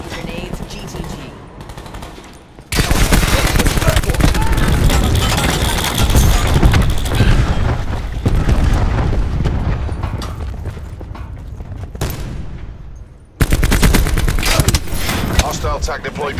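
Cluster grenades in Call of Duty Black Ops 4 set off loud, dense bursts of overlapping blasts and rapid gunfire that stop abruptly and then start again, with voices talking underneath.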